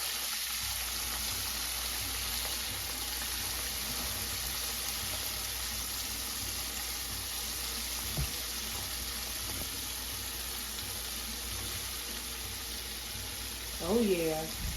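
Steady hissing sizzle of chicken deep frying in hot grease fills the whole stretch, constant and close, with a faint voice briefly near the end.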